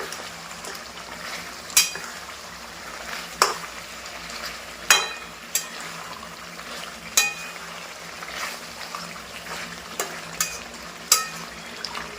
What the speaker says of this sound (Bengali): এখন আলু কিছুটা কষবে তেল ছেড়ে গেছে কিন্তু আলু কষবে কিছুক্ষণ